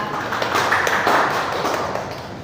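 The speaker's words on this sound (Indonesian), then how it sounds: "Aplaus untuk Anatika." Classroom applause during a micro-teaching lesson on basic algorithms is a brief patter of clapping from a small group that rises and fades within a couple of seconds.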